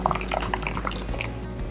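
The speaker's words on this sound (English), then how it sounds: "we're gonna pour our sauce in here through a strainer." Sauce for watermelon mul naengmyeon pours through a strainer with a close, liquid trickle and scattered drips, over a low steady hum and with no talking.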